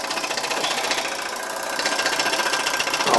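Miniature steam engine from an MLI steam plant drives a wooden Leonardo da Vinci model helicopter, giving a steady, fast mechanical chugging and clatter with a bright hiss, close and continuous throughout.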